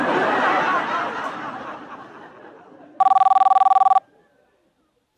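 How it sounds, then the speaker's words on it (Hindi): An electronic telephone ring trills once for about a second after fading speech and laughter in a home, then stops into near silence. "खाने के टाइम पे फोन आ गया, देखा?"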